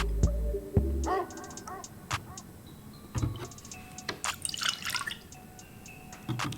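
Water trickles into a small measuring cup while crepe batter is being made, giving faint, short splashes and drips with quiet pauses between them.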